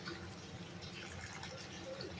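Hot water is poured into a simmering fresh grated coconut vegetable curry, giving a faint, steady low splashing pour that runs the whole time.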